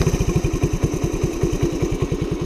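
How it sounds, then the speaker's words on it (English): A dirt bike engine idles steadily with its choke on, just started on the first pull, its loud pulsing putter running in an even rhythm with no talk over it. "Might have to do a minor adjustment on the carburetor. Maybe bring the idle up just a bit."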